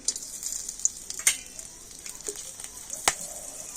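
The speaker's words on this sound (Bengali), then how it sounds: "আমি কড়াতে একটুখানি তেল দিয়ে দিয়েছি আর দিয়ে দিচ্ছি একটা শুকনো লঙ্কা আর একটা তেজপাতা" Dried red chilli, a bay leaf and whole garam masala spices frying in a little oil in a kadai, a steady close sizzle with a few sharper crackles and pops, no voices.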